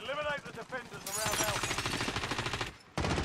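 Rapid automatic gunfire in Call of Duty: Warzone, with a long rattling burst of close shots, a brief pause, then another volley. Someone speaks just before the shooting starts.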